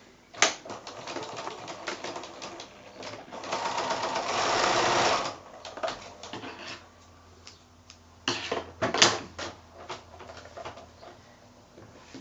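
A sewing machine stitches 5-inch fabric squares onto the corners of a quilt block, coming in quick rattling bursts of needle chatter separated by quieter pauses, moderately close and without talking.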